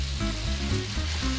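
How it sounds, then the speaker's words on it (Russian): Pasta for carbonara sizzles and fries in a hot frying pan, a loud, continuous hissing crackle close up, with faint low stirring noises beneath and no voices. "Все, отправляем пасту на сковородку."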